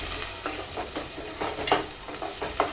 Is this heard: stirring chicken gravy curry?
yes